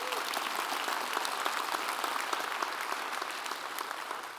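An audience at a school district state-of-the-schools event applauds with dense, steady clapping that fills the whole moment and tapers slightly at the end.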